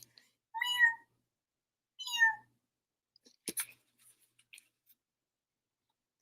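A cat meows twice, clear and fairly close, each call a short rising-falling cry, followed by a few faint soft clicks and rustles in an otherwise quiet room.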